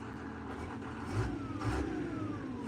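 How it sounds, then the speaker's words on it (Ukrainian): A CLAAS tractor engine idles steadily up close while warming up, with a low rumble and a brief rise in revs partway through. "трактор працює, вже він трошки прогрівається"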